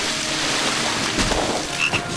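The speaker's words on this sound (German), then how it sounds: "Sogar zwei Frösche. Ein Froschpaar," In the video game Lego Harry Potter, a pair of frogs gives a few short croaks over a steady watery ambience, faint and sparse near the end.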